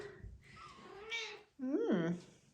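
A Ragdoll mother cat gives one loud, drawn-out meow close by, with eight-week-old kittens around and soft background noise and voices before it.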